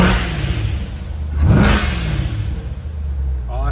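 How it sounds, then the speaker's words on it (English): A 2020 Corvette C8 2LT Z51 engine idles with a low exhaust rumble, then revs sharply upward for a moment before settling back to a steady idle, close by. "Absolutely love the tone of the exhaust on this car."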